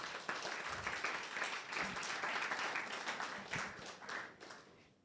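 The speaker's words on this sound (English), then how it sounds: "I think we all need to give her another round of applause." A lecture audience gives a round of applause: dense, continuous clapping from many hands, fairly distant and soft, fading toward the end.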